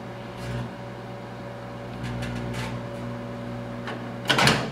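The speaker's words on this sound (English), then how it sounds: "Now we'll turn the microwave on." A microwave oven runs with marshmallows inside, giving a steady electrical hum. A few faint clicks sound over the hum, then a louder crackling burst near the end.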